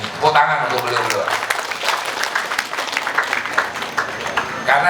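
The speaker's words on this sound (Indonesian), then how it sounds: "Tepuk tangan untuk beliau." A government gathering applauds the supervisors, a crowd's clapping filling the room while a voice speaks briefly at the start.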